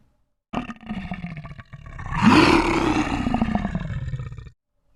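A voice imitates a lion's roar, a single long, throaty growl that swells and then fades, heard close and alone in a preschool setting.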